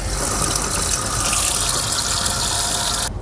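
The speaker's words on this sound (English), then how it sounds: "your next step is to turn on the faucet." Water gushing steadily from a sink faucet, a loud, close, continuous splashing rush that stops abruptly at the end.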